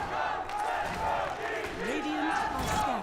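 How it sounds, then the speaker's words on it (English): Esports crowd at a Dota 2 tournament in Riyadh cheering and chanting for their team, a loud continuous roar of many voices with rising chant-like pitch swells throughout. "Crowd getting into it. You're gonna hear a lot of Falcons chants throughout this tournament"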